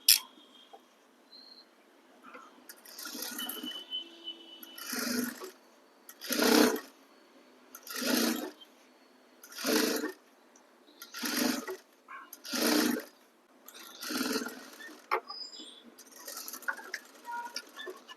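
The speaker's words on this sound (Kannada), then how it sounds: "ಜಸ್ಟ್ ಹಿಂಗೆ ಫೋಲ್ಡ್ ಮಾಡಿ ಒಂದು ಸ್ಟಿಚ್ ಮಾಡೋಣ ನೋಡಿ" A sewing machine stitches a folded blouse neck joint in about ten short runs spaced a second or two apart, each burst a close whirring clatter with quiet pauses between.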